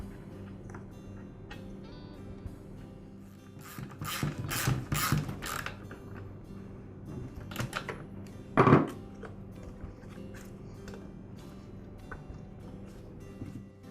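A ratchet works a spark plug out of a Ryobi leaf blower in rapid clicking bursts, followed by a sharper metallic clink, close and moderately loud over a quiet background.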